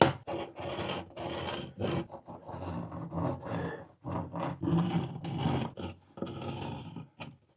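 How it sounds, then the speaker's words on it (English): An oscillating multi-tool saw cuts a square hole through a wall for a mini split line set, a close, rough rasping buzz in repeated bursts with short pauses between passes. "I'm gonna go grab the oscillating saw"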